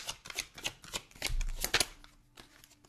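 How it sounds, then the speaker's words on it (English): A deck of tarot cards shuffled by hand in a few quick riffling bursts, close and crisp, with a short pause before a final flurry and quiet afterward. "I shuffled this deck a lot."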